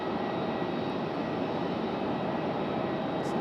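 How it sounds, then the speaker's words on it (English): An Airbus A220 airliner departing Raleigh-Durham International, heard as a steady, loud jet engine roar with no pauses. "our A220 next up for departure"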